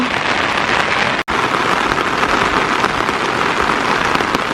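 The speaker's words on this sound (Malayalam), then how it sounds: "നല്ല മഴ പെയ്യണ്ടേ നല്ല മഴയാണ്" Heavy monsoon rain pours steadily, a dense hiss of drops drumming on a surface, close and loud, with one brief cut in the sound near the start.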